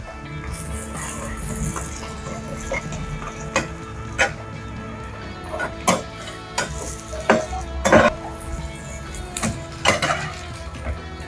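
A tomato egg paratha fries in oil in a pan after being flipped. A continuous close sizzle is dotted with sharp crackles and spattering pops.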